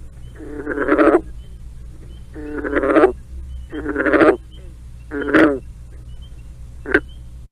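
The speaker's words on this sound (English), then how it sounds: "green frog may also give several stuttering guttural calls, followed by a single staccato gunk" Green frog giving a run of stuttering guttural calls, about five rough croaking bursts spaced roughly a second apart, the last one short and clipped, heard close over a low steady hum.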